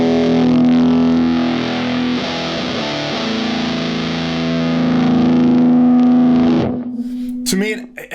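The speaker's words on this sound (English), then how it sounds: "middle position maybe sounds a bit more like a Big Muff style thing, where it gets very trebly at the top" Guitar through a fuzz pedal set to its middle position in a Big Muff style, heard through a Two Notes Genome rig: a thick, sustained, bright distorted chord ringing for several seconds, then breaking into scattered short notes near the end.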